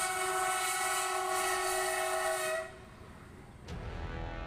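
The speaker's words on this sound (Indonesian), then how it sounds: "Inilah rangkaian kereta api cepat Indonesia-China yang akhirnya diuji coba" An Indonesia-China high-speed train on a test run sounds a loud, sustained horn blast for nearly three seconds, then cuts to a rushing roar of the passing train with a brief sharp click.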